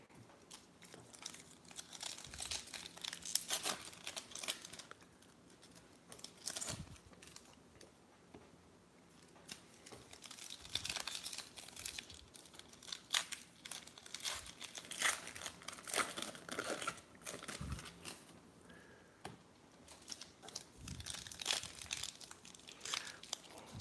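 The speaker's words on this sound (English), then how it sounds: "This is the worst foil packs to open." Foil wrappers of 2018 baseball trading card packs being torn open and crumpled during a box break, a long stretch of loud, close crinkling and ripping bursts with brief pauses between packs.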